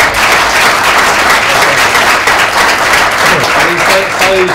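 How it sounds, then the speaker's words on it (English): At a live whale festival show, an audience applauds in a loud, sustained wash of clapping, and a voice starts speaking over it near the end. "I think we should give him a round of applause."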